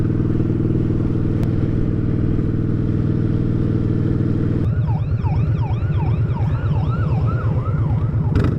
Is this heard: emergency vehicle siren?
yes